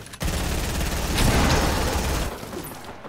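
Rapid gunfire in the Fortnite video game: a dense, loud, continuous burst of shots lasting about two seconds before cutting off.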